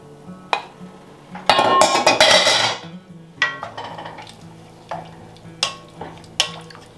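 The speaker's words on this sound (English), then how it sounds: "next I'm going to add in my drained beans" Drained beans tipped into a pot of white chicken chili, a dense rattling pour lasting over a second, followed by repeated close spoon scrapes and clinks against the pot as it is stirred.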